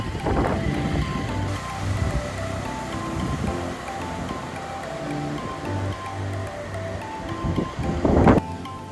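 Wind blowing hard across the microphone at a mountain viewpoint near Riverston and Manigala in Sri Lanka, giving a constant loud low rumble and buffeting with a strong gust burst near the end; no voices.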